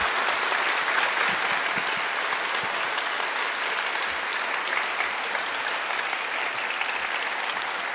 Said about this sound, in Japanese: 最後にもう一度、えー、この素晴ら しい3人のパネリストの方にですね大きな拍手を、えお送りください